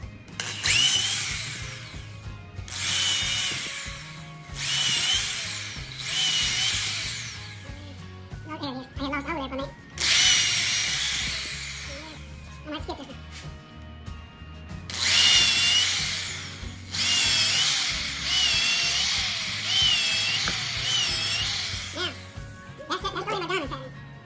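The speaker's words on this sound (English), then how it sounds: "You do not want to drill them side by side." A power drill whines loudly in several bursts a few seconds apart, biting into a wooden log, with people talking between the bursts.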